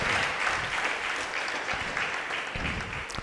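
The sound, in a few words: audience applause at school debate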